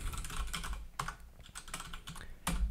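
Code being typed on a computer keyboard while writing an if statement in Neovim: rapid, close, crisp keystrokes in an uneven stream with a few heavier key hits, and no talk.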